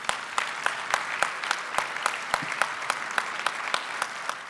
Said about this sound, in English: I would really like to have a round of applause for the 72 sponsors